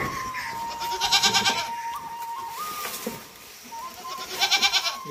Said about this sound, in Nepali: खसीहरू फेरि।